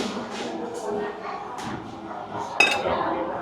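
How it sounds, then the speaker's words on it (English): Creamy crab pasta being stirred with cutlery on a plate, soft scraping and light clinks of metal on ceramic, ending in one sharper clink, with a person talking over it. "Let's go ahead and mix up this pasta a little bit"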